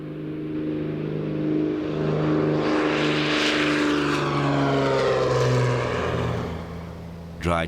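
A propeller-driven fixed-wing aircraft drones steadily overhead over countryside during aerial fox baiting, a sustained engine hum that swells slightly mid-pass, then ends in a brief bump.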